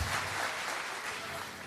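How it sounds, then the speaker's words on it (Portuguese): A church congregation applauding during a worship service, a dense, steady wash of clapping that holds evenly throughout without voices on top. "Alguém pode aplaudir o Senhor?"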